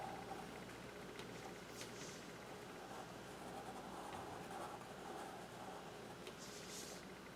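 Pen or pencil drawing a figure-three design on paper, a soft, continuous scratching of strokes close up and fairly quiet, with faint room hum underneath.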